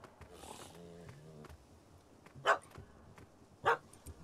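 In The Witcher 3, a dog barks twice, loud and sharp, at a cat up a tree, the barks a second or so apart, with quieter voices heard earlier.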